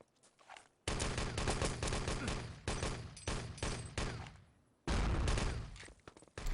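Rapid rifle and automatic gunfire in an Enemy Territory match, loud bursts of repeated shots with brief gaps, close and dense, no talk over it.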